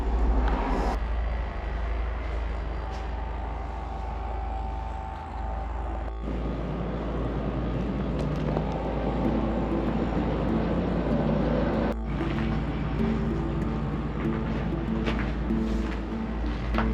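A 376-tonne mining haul truck carrying about 240 tonnes of ore rumbles past in Newman, a heavy, continuous low engine drone that stays loud and steady, with two brief dips in the noise.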